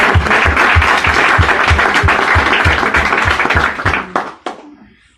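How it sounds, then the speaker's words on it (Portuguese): A church congregation breaks into loud, sustained applause, dense clapping that holds steady for about four seconds and then thins out and fades to a few scattered claps. "Vamos aplaudir?"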